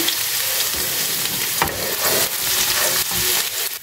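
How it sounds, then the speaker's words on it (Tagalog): Garlic and onion sizzle steadily in a generous amount of hot olive oil in a pan, a continuous loud frying hiss with occasional stirring scrapes, no voices. "we'll put the garlic, the onion"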